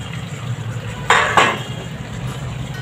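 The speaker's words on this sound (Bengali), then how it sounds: "আমি চিকেনটা দিয়ে একটু নাড়াচাড়া করে নেব" Chicken pieces are stirred and tossed in a frying pan, two quick scraping clanks of the utensil against the metal standing out over a low, steady frying hiss.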